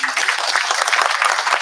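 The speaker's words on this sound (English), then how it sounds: "So let's give our governor a round of applause." An outdoor crowd at the opening of the Clendenin Rail Trail claps for the governor, a brief burst of lively, uneven applause from many hands.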